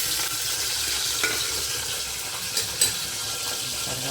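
Small onions and green chilies fry in groundnut oil in a pan, giving a steady, close sizzle with a few faint clinks and stirring sounds and no talk.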